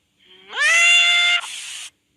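A cat gives one loud, drawn-out meow with a rising start and a slightly rougher tail, heard close and alone against silence.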